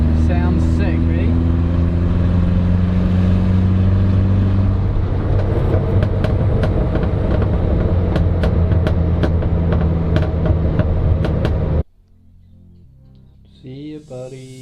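A Toyota Corona with a loud exhaust rumbles close by in a steady, throaty drone for about twelve seconds, then cuts off abruptly, leaving a few faint sounds.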